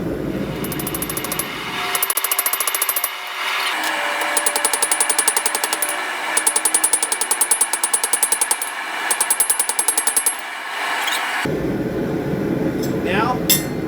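Rapid bursts of mechanical hammering strike the edge of a san mai steel billet, loud repeated metallic pounding in several runs with short pauses, and a voice speaking near the start and end.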